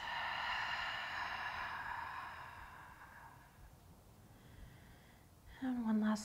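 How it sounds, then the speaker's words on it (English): A slow, deep breath is drawn in and released during a calm yoga session, a soft airy hiss that fades out, followed by a brief voiced sound at the close. "Take a deep breath in. And exhale, release."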